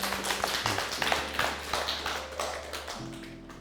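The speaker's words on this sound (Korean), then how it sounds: "우리 그분들께 박수 한번." Audience clapping at a Korean seminar on pet loss: a small group claps in scattered, uneven bursts, fairly close, with a low steady hum underneath and no talk over it.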